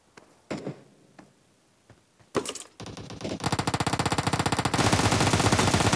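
M762 rifle fire in PUBG, a few scattered single shots and clicks at first, then sustained rapid automatic bursts building into a dense, loud, continuous rattle of gunfire.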